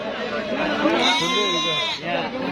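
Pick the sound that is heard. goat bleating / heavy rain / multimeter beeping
goat bleating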